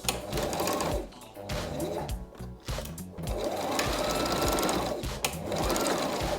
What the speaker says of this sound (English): Alright, so we're sewing this down.